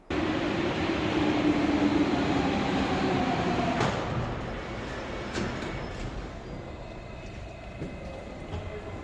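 Steady rumble and roar of a Paris metro train riding along, loud and continuous, with a sharp clunk partway through and the noise easing slightly afterward.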